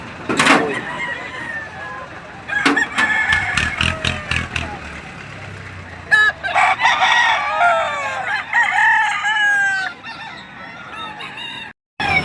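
Several roosters crow repeatedly at a poultry market where fowl are being priced and sold, loud nearby calls overlapping one another, with someone talking and clucking in the background.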